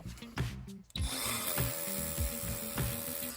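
A power drill bores a pilot hole into concrete, first in a couple of short bursts, then a steady, loud, close grinding whine that runs continuously to the end with no talking.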